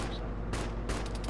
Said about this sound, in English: Auto cannon fire from our left.